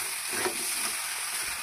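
Jaggery melts into raw mango chutney in a pan while being stirred, making a soft, even sizzle with a brief scrape, brief and fairly quiet, without speech.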